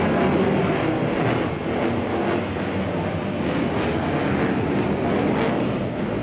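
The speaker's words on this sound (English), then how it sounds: "This is the F22A Raptor of the F22 demonstration team" An F-22A Raptor stealth fighter of the F-22 demonstration team performs a flying display at the Singapore Airshow, a loud, steady jet roar that swells and rumbles across the whole stretch with wind buffeting.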